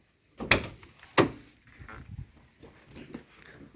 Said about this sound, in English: you've got your barn door setup, which will allow you into the rear of the motorhome